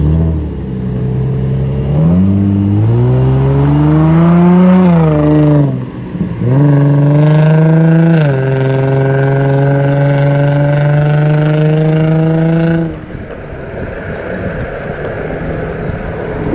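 A single-motor electric scooter whines close by as it rides, pitch climbing in stages during acceleration, briefly dipping, then holding a steady high tone before dropping off into wind and road noise.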